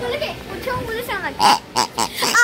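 A few short grunting oinks come in quick bursts near the end, following a brief spoken word.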